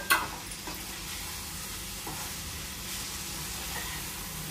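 Sesame seeds being stirred into a sizzling pan of nalleru pachadi, a steady frying hiss with a brief scrape at the start and soft stirring clinks, close and continuous with no talking.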